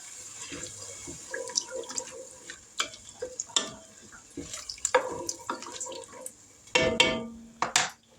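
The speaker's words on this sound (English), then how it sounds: "Give this a stir." A spoon stirs a pot of beefy vegetable soup with crushed tomatoes, irregular metallic clinks and scrapes over a wet, sloshing bubbling background, with a few louder knocks toward the end.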